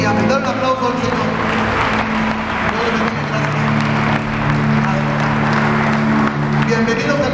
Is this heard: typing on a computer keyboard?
no